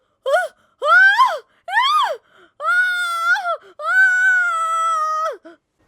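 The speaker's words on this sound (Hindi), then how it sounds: "वो चीखती रही, चिल्लाती रही" A witch screams and wails while burning after a lit torch sets her hair on fire, in a Hindi horror story; a series of loud, close, rising and falling anguished cries, alone with no talk.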